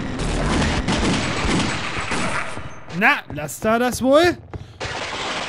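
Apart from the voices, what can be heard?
gunfire from a weapon in Half-Life: Opposing Force video game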